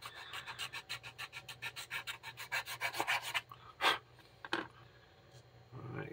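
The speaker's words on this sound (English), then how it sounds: "I don't want to sand that flat and make that look goofy" Hand sanding on an AMC Pacer car body, close up: roughly twenty quick, even back-and-forth rubbing strokes, then a pause and a couple of slower, harsher scrapes.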